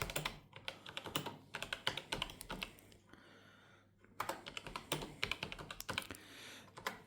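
Keys clatter in quick, uneven bursts of typing on a Zerowriter, close and fairly quiet, pausing briefly midway before the tapping resumes.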